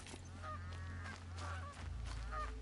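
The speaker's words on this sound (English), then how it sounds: "Indestructible turkey. It's the god of turkeys." A turkey in a video game gobbles and honks in several rough, warbling bursts over a steady low background hum, fairly loud and close.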